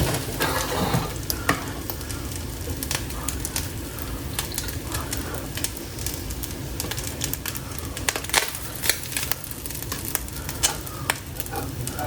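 Rice and eggs stir-fried together in a hot pan for pineapple shrimp fried rice, with steady sizzling and frying under repeated scraping and stirring strokes of a utensil, close up and continuous.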